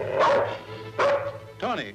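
Dog barking in an old adventure serial, three loud separate barks spaced about half a second to a second apart, close by, the last one with a whining, yelping edge.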